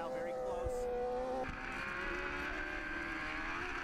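Superbike race motorcycles, a Yamaha, a Triumph and a Kawasaki, roar around an autodrome circuit, engines whining at high revs with pitch shifts as they pass, under a commentator's voice.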